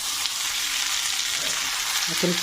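Sliced potatoes fry in a skillet for a potato gratin, a dense, close sizzle with brief stirring scrapes toward the end.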